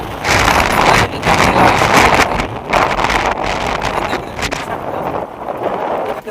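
Steady roaring wind buffets the microphone while riding a two-wheeler along a rough village road, broadband gusts loud and continuous, with faint engine rumble beneath and no clear talk.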